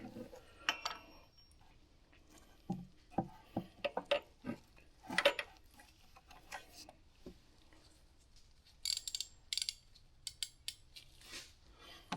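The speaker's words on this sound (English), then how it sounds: "now we'll go ahead and we will put our ratchet on there" A ratchet works the belt tensioner bolt on a Honda 2.4L K24 engine, making quiet bursts of clicking and metallic ticks separated by pauses, close but faint.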